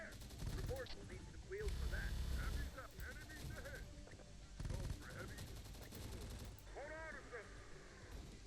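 A spider unit in a video game lets off bursts of rapid gunfire, with machine-gun rattles and chirping weapon effects layered over a busy game soundscape, fairly quiet overall, with voices speaking throughout.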